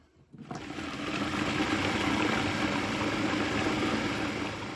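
A food processor whirs steadily as it blends dory fish meat into a fine paste for homemade fish balls. It starts from near silence, then settles into a constant, fairly loud motor drone with no talking.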